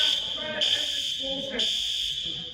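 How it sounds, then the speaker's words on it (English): A building fire alarm blares in a steady, loud, high electronic tone that pulses on and off, with voices talking underneath. "And now the alarm's going off again."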